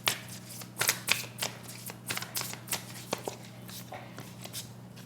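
Tarot cards are shuffled and drawn by hand, giving a run of crisp, close riffling and flicking bursts with short pauses between them.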